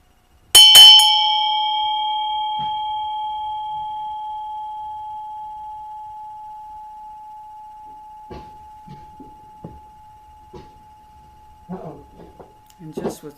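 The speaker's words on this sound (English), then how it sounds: "just let the bell reach you" A single bell is struck once to center a gathering at a Memorial Day service, ringing out clearly and sustaining a long pure tone that slowly fades over many seconds while a voice begins speaking softly beneath it.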